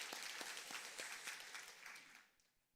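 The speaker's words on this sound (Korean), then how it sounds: "박수로 환영하겠습니다" Church congregation at a Sunday service applauding in welcome, brisk, dense clapping from a room full of people that fades out toward the end.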